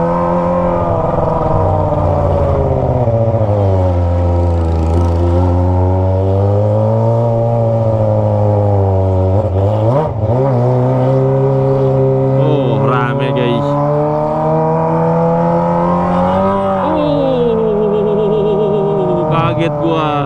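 Kawasaki ZX25R motorcycle with a Toce aftermarket exhaust riding through dense afternoon traffic: a loud, close, high-pitched engine drone that swells and dips as the throttle is worked, running without a break.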